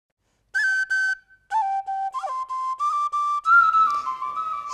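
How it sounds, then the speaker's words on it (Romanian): A Romanian shepherd's flute, the fluier, plays a bright, clear melody of sustained notes with short gaps between phrases, close and solo with no talking. "Și-a luat fluierul și a început să cânte."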